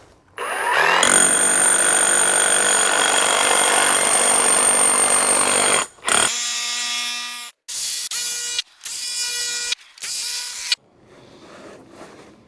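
Power tool with a driver attachment hammering rebar down into the ground at a Generac 200A transfer switch install site: a loud, continuous buzzing rattle for about six seconds, then shorter bursts with brief pauses between them.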